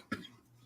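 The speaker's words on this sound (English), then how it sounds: "I'm having throat and cough issue" One short, sharp cough stands out against quiet background hum, a single abrupt burst from someone with a throat problem.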